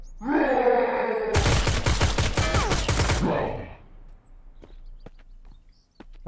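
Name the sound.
gunfire from Mist Survival video game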